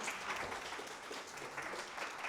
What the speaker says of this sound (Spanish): puedes aplaudir si deseas, obviamente